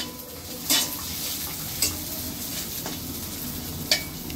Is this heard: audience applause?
no